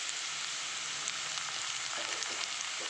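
Ginger garlic paste sizzles with fried onions in a pan for egg fried rice, a soft, steady crackling fry with small pops, fairly quiet and alone.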